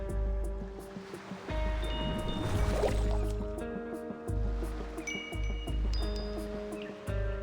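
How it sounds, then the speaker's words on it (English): Chiming, bell-like tones ring out over washing waves in the video game Reverse: 1999, sustained tonal notes layered above a soft surging water wash, with new chimes struck at intervals. "The waves create a chiming sound, like bells."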